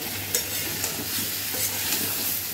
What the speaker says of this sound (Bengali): কপিটা যতক্ষণ ভাজা হচ্ছে